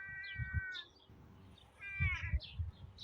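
A cat gives two drawn-out meows, fairly close, in a spring garden, with soft low thumps and rustling between them.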